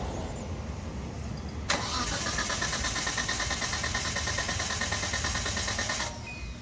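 A 1986 Nissan 200ZR cranks briefly and catches after its fuel system is primed, then settles into a steady, even idle. It is close and loud, with no talk, and cuts off just before the end.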